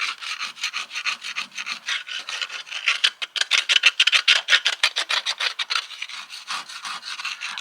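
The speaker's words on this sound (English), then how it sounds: "I've got a little screwdriver with me to chip around the top" A small screwdriver scraping and chipping at soot and deposits around the top of a narrowboat stove flue pipe, producing a rapid, rhythmic series of dry rasping strokes, close and fairly loud, with no voices.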